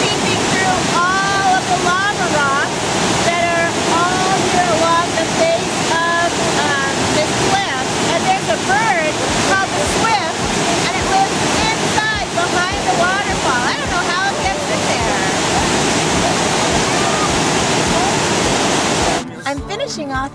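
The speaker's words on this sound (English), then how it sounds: "There's actually two waterfalls here." Waterfall pouring over a cliff beside a second fall seeping through lava rock near Mount Lassen, a loud, steady broadband roar of rushing water that continues unbroken, then cuts off sharply near the end.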